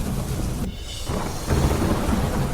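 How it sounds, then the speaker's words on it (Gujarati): Heavy monsoon downpour in Lunawada, Gujarat, falls in a steady roar broken by a rumble of thunder, then the rain surges back louder, close and full. "ભારે ગાજવીજ સાથે એકાએક પડ્યો વરસાદ"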